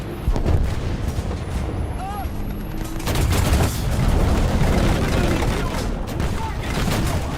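Tank gun fire and explosions from the video game War Thunder, with heavy booming blasts and dense rumbling battle noise throughout and a player talking over it.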